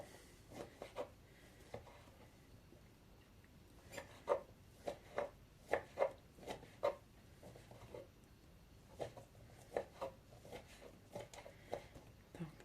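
A knife chops salad ingredients into pieces on a board, soft repeated cuts landing in small uneven clusters, close and quiet.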